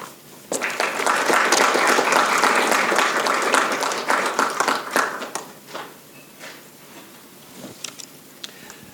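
An audience at a university social sciences week lecture applauds to welcome a professor. A dense burst of clapping starts abruptly, holds for a few seconds, then thins into scattered claps and taps.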